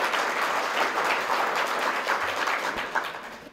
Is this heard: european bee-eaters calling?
no